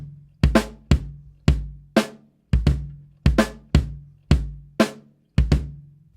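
Isolated snare and bass drum accents from a half-time shuffle, played on a kit: a sparse, evenly spaced series of about a dozen punchy hits with short decays, close and clear with no cymbals.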